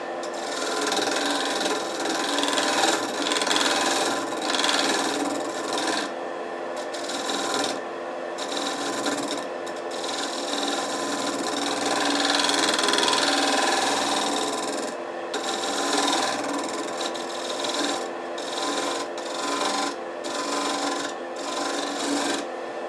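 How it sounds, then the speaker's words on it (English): A shear scraper smooths the surface of a cherry burl hollow form spinning on a wood lathe, giving a continuous close, steady rasping hiss with slight swells and brief dips, and no voices. "I think I'm going to come back and use my shear scraper to try to smooth that out a little bit"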